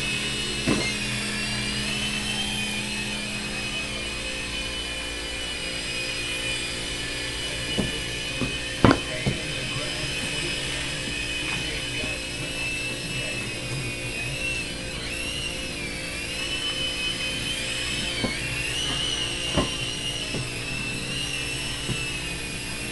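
A Blade MCX2 RC helicopter flies nearby, its small electric rotors giving a steady, high buzzing whine that holds throughout, with occasional faint clicks and knocks.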